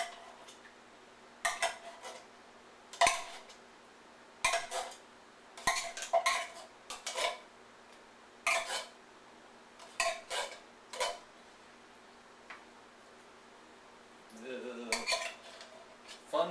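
Clinking silverware and dishes being rummaged through in a kitchen, a series of short sharp clattering bursts with pauses in between, close and fairly loud.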